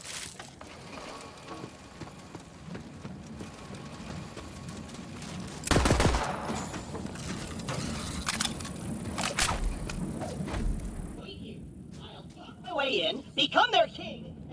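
Gunfire from guns in Borderlands 3 on PS4 Pro, with sharp loud shot bursts, mechanical clicks and a final cluster of cracks, mixed under game voices talking.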